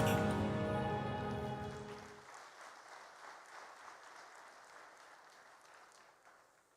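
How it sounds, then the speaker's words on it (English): Audience applause for Kenya at a development bank conference in Nairobi: music fades out as a crowd's clapping swells, then the applause slowly thins and tapers off over several seconds. "there's the need for one more applause for Kenya"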